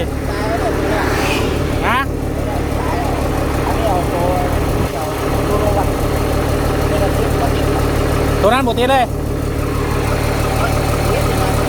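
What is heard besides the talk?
ten-wheel truck engine idling unevenly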